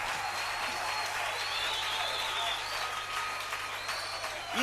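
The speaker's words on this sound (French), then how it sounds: "Etela kolo Yesu Kristo maboko." A church congregation applauds for Jesus Christ, steady dense hand clapping from a large crowd filling the room, with a little crowd noise mixed in.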